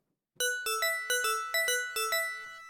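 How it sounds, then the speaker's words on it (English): Bell patch on a Launchkey 37 MK3 MIDI keyboard synth playing a quick arpeggiated run of about ten bright chiming notes with ringing decays, clean and close with no voices. "So now I have a bell sound selected"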